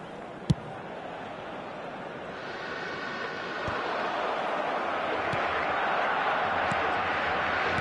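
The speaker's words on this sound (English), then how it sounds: "Certainly gave this crowd something to really cheer about." Stadium crowd noise in the eFootball football video game forms a steady broadband roar that swells gradually over several seconds, with a sharp click near the start.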